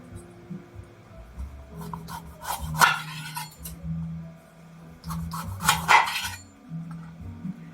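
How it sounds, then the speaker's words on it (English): A knife cuts through an acorn squash along its ridges, giving two distinct crunchy cracking bursts as the blade breaks through the hard rind, with light rubbing and scraping on the board between them. "When you cut your acorn squash, there's going to be seeds in it"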